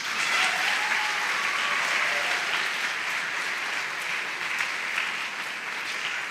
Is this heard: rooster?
no